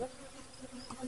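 Honey bees buzzing at a hive entrance fitted with an entrance reducer, a soft close drone of several insects with brief louder passes.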